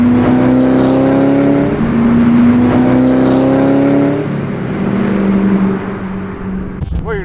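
Supercharged A.I.V. Panoz Roadster driving: loud, close, steady engine drone with rising pitch as it pulls through gears, a brief dip between shifts, and a short sharp noise near the end.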